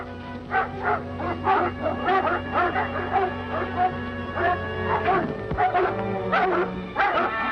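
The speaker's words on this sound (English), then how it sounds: "Something stirred up the dogs." Several dogs barking and yipping in a 1940 film serial, a busy run of sharp barks and whimpers over a steady background hum, close and fairly loud throughout.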